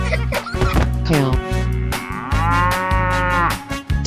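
A cow moos repeatedly in a 3D animal slide video game, several long, loud, drawn-out calls over game music and sound effects.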